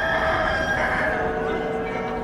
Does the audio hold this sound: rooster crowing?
yes